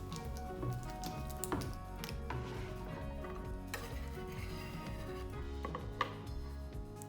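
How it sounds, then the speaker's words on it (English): Fork mashing and mixing soft butter with garlic in a bowl, close scraping and clicking against the dish in an uneven, busy rhythm throughout, no talking. "Smash it with a fork and mix it good."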